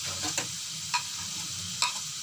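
Ginger paste stirred into chicken and onions frying in a pan for a chicken sandwich, with a soft steady sizzle beneath three brief scraping stirs, close and alone.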